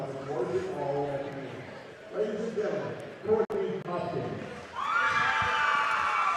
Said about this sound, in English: Good crowd in here tonight